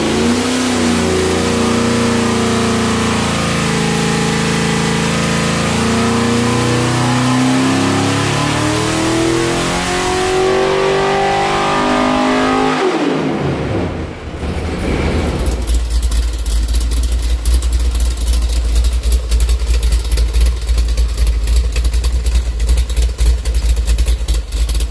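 A V8 with Vortec heads, a roller cam and a 750 Holley carburetor roars on an engine dyno, rising through a loud wide-open pull, dropping briefly, then holding a harsh, steady high-rev drone; no talking.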